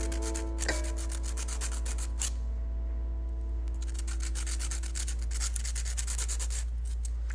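An acrylic fingernail is rubbed hard against a nail file in quick repeated strokes, close up, with a steady hum underneath and a short pause partway through.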